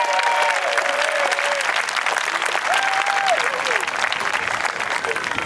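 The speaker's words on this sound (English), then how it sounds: "he deserves a special round of applause for that" Loud, close applause from a crowd at the Welsh Castles Relay 2022 stage presentation, honouring a committee member; dense continuous clapping with a few faint voices and whistles mixed in.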